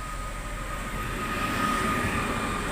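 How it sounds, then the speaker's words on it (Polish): A passenger train from Zielona Góra pulls into Gdynia Główna station, a continuous broad rumble and rolling hum with a faint steady whine, loud and close, with no voices. "O jest. Z Zielonej Góry Głównej do Gdynia Główna, czyli nad morze jedzie."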